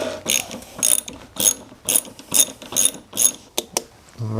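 A ratchet on a long extension spins out 12 mm bolts during a power steering reservoir replacement on a Lexus GX470, giving a close run of about eight quick clicking bursts alone with no talk.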